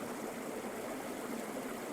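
A Norwegian river flows between ice and snow only recently thawed, a constant soft rushing and gurgling of water, steady and moderately close with no voices.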